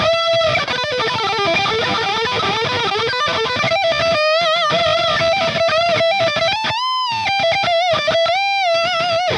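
Heavily distorted electric guitar played through an Omega drive pedal set to mimic a Marshall JCM 800, loud and continuous with sustained lead notes and bends, no talking.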